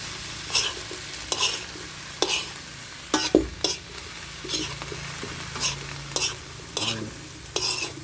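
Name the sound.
stirring eggplant frying in a pan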